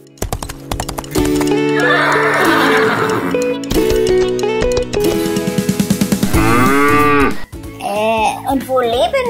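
A horse whinnies with a long wavering call, followed by a drawn-out cow moo, over bright background music with some clip-clop sounds.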